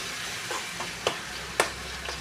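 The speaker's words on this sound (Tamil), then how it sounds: "நல்லா தக்காளி வெங்காயத்தோடு நல்லா வதக்கணும்." Tomato and onion sauté in a pan, giving a steady soft sizzle with a few sharper stirring scrapes and taps spread through, no talking.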